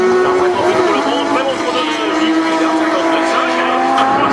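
Race car on the Trophée Andros ice circuit at Val Thorens, 2003, driven by Yvan Muller: a loud, close engine roar with shifting pitch and tire squeal as it passes, under excited commentary.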